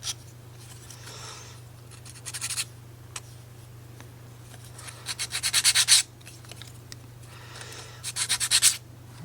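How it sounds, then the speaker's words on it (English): Several bursts of raspy sanding on a wooden 3D bookend model, short rhythmic strokes in groups with pauses between, close by over a steady low hum. "Straight part sanding, and we get into the crevices with our"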